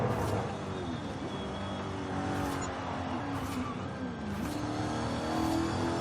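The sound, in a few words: Alfa Romeo 155 engine accelerating in Forza Horizon 5 (video game)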